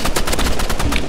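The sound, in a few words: SCAR assault rifle firing in Roblox FPS game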